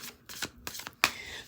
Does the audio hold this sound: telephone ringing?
no